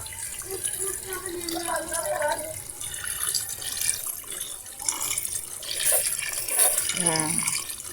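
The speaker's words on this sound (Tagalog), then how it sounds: "Lagyan natin ng sabaw na." Broth pours into a pot of pork sinigang in a light continuous trickle and splash. The sound is fairly faint and close, with a voice talking over parts of it.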